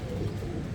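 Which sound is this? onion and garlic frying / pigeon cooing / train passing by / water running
pigeon cooing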